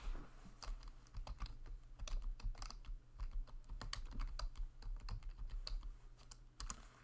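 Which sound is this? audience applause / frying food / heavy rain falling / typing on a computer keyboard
typing on a computer keyboard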